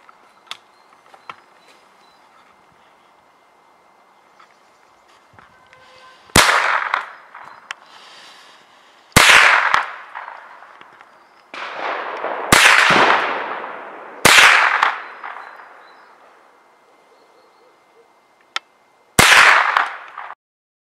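Five sharp, loud gunshots from a mini-carbine fired outdoors at a balloon about 100 meters away, each crack followed by a decaying echo, spaced a few seconds apart amid faint background insects.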